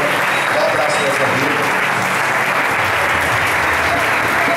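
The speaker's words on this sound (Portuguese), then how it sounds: "E a igreja aplauda ao Senhor bem forte." A church congregation claps loudly and steadily in a dense wash of applause, with voices mixed in beneath it throughout.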